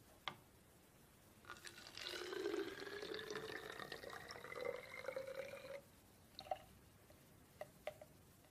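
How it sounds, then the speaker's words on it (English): Water poured from a glass beaker into a bottle in a classroom science demonstration, a quiet close trickle lasting about four seconds with a rising gurgling tone, followed by a few faint drips and taps. "Now I'm going to transfer the water from this beaker into this bottle here."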